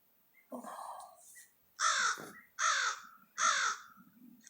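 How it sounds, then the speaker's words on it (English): A crow caws close by: one drawn-out harsh call, then three loud, evenly spaced caws, with quiet gaps between them. "Mr. Crow talking to Dennis Ramsey."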